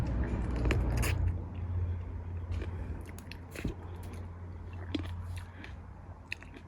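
Crisp biting and crunchy chewing sounds repeat close to the microphone, with wet squishes between bites over a faint low hum.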